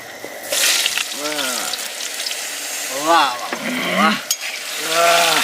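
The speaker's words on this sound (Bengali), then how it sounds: "আমরা আলুটা একটু ভেজে নিই" Potatoes frying in oil in a pan outdoors in a cold forest at night, a steady loud sizzle with scraping stirring, under talking voices.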